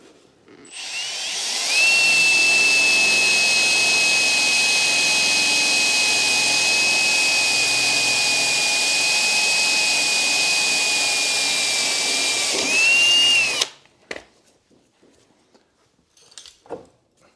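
A power drill with a 7/32 drill bit bores a hole in an Ariens Ikon XD mower wheel spindle for a grease zerk, one continuous steady high whine lasting about twelve seconds, then quiet clicks and handling.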